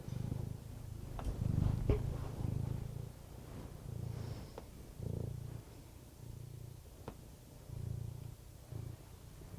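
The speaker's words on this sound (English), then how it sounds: "This is our evil cat." A cat purring on someone's lap, a soft close low rumble pulsing in steady breaths with brief quiet gaps, alone without talk.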